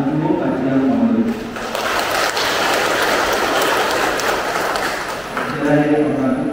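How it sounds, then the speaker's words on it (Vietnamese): Applause from a congregation in a church during a parish feast day celebration for Saint Therese of the Child Jesus, a steady wash of clapping that swells in the middle, with a voice speaking at the start and end. "Chúng ta cùng nhau chúc mừng nhau bằng một tràng pháo tay để tạ ơn Chúa và tri ân mọi người"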